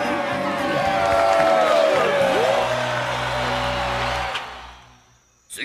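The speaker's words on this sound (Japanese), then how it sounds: "観客から大歓声が湧き上がっております" Video game crowd cheering at a dance contest, a loud sustained roar with whoops and rising tonal swells that fades out near the end.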